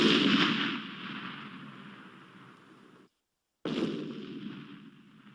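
A radio-drama effect of an artillery gun firing, with two booming blasts. Each blast rolls off into a fading rumble, and a short silence separates them.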